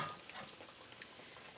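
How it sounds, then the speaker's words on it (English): Zucchini pieces fry in hot grease, giving a quiet, steady crackling sizzle with scattered pops and no voices. "So those are still frying."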